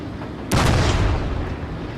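Gatling guns firing during a naval battle in Shogun 2: Total War: after a quiet moment, one loud, rough burst of rapid fire erupts and rumbles on for about half a second before settling back into the battle din.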